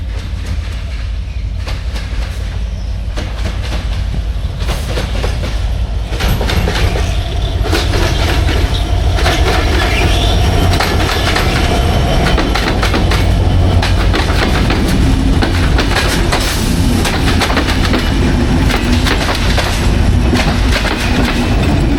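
A train rolls past close by at Natore railway station, loud and continuous, its wheels beating a steady clickety-clack rhythm throughout.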